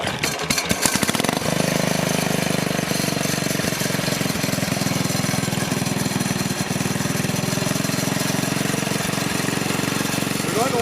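Bolens garden tractor engine idling on choke just after startup, a loud steady mechanical chugging with rapid regular firing pulses, preceded by a few sharp knocks at the start.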